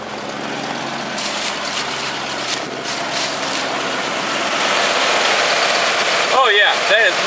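A car engine idles steadily after its brake booster check valve is replaced, a continuous low hum that swells slightly, as someone talks briefly near the end.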